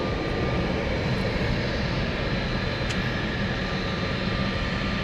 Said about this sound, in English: This is the Embraer E190, not even an E190 E2, it's just a normal E190.